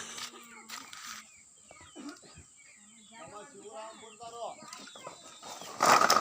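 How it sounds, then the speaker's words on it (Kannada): Chickens clucking nearby in a series of short, repeated calls, with a voice talking over them and a louder burst at the end. "ಕೋಳಿ ತೋರಿಸ್ತೀನಿ"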